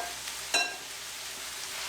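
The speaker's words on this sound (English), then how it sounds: "And we will fry them up" Pre-marinated Mr Marinade meat sizzling in a frying pan, a steady hiss with one brief louder crackle near the start, heard close with no talking.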